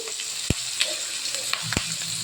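Chopped onion and dried onion frying with tempered whole spices, dried chilli and a little sugar in a pan: continuous close sizzle broken by two sharp utensil knocks and a few lighter clicks, no talking.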